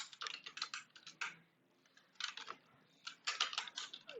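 A computer keyboard is typed on in quick bursts of close, crisp clicks, with short pauses between runs of keystrokes during a Python programming lesson.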